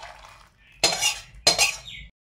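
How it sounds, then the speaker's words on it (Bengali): Cooked biulir (kalai) dal is ladled into a serving bowl: two short, close clattering scrapes of utensil against bowl, with no voices. "আমরা এই বাটিতে এবার পরিবেশন করে দিচ্ছি।"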